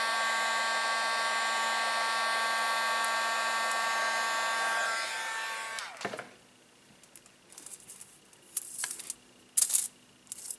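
A heat embossing tool melts clear embossing powder on card pieces resting on a foil-covered clipboard. A loud, steady blowing whir runs for about six seconds, then cuts off, leaving faint handling clicks and taps.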